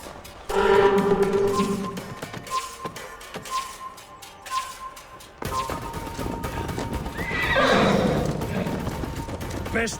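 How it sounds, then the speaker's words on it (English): A horse neighs loudly in Assassin's Creed Valhalla, followed by hoofbeats and rumbling game ambience, with a character's voice speaking over part of it. "Best not fall off your horse."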